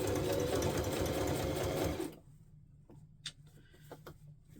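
A sewing machine runs continuously at speed while stitching fabric, a loud dense whirring that stops abruptly, leaving a few faint ticks and handling noises in a quiet room.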